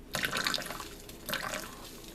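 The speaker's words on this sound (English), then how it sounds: "I'm going to just pour a little water into the top here. Cold water," Cold water is poured into the top of a Swiss army canteen cup in two short splashing bursts, close and moderately quiet, with a soft trickle between them.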